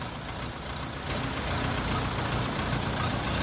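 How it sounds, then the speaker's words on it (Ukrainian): An Orion 50R 50-horsepower tractor engine runs steadily with a low diesel rumble, growing slightly louder after the first second and holding a constant drone throughout. "Тракторець їде в Черкаську область"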